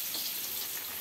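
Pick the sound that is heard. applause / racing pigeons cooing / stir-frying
stir-frying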